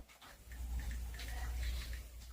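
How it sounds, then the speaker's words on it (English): A dog pants softly and rapidly in quick, even breaths, faint and fairly close, over a low background hum. "A dog."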